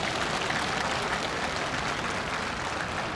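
A crowd at a Buddhist inauguration ceremony for a new head of the order's administration applauds steadily, a dense, even wash of many hands clapping that holds throughout without any talk.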